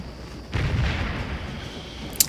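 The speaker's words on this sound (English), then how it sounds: "You have the artillery, and they are enfilading this regiment. In other words, they're firing down the line" Artillery fire in the Civil War game Scourge of War at McPherson's Ridge: a single deep, rumbling cannon boom rolls out after a quiet start and lingers, with a brief sharp crack near the end.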